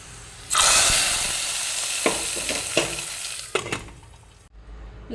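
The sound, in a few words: sizzling tempering with dried chilli added to bean curry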